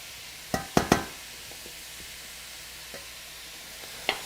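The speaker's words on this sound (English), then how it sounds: "just stir that up good and let it cook" A pan of dirty rice with mushrooms is stirred as it cooks, a few sharp scraping clacks of the spoon near the start followed by a soft, quiet sizzle and occasional taps, with no talking.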